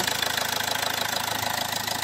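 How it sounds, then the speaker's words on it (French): A car engine with a head gasket repaired without disassembly idles steadily close up, giving a continuous, even, rapid pulsing hum with no voices. "le moteur en lui-même, il tourne très bien"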